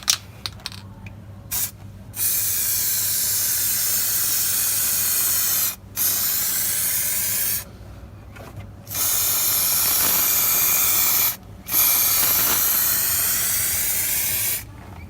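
Rust-proof clear coating sprayed onto a rusted vehicle chassis as a second coat: loud, steady aerosol hissing in several long bursts separated by short pauses, close by, with no talk.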